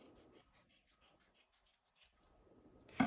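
Scissors snip through folded darker-yellow paper while cutting marigold (cempasuchil) flower shapes, a close, quiet run of about a dozen quick crisp cuts, then a louder rustle at the end, with no talk.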